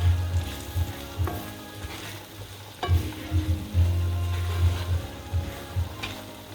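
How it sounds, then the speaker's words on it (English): A spoon mixes masala through a big pot of Durban-style fish curry made with mussel cracker fish, giving repeated low scraping and thudding strokes over a steady, soft frying sizzle, with no voices. "Just give it a good old mix there."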